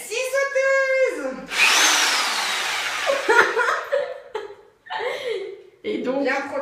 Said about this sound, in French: Nous allons utiliser notre amie, la scie sauteuse.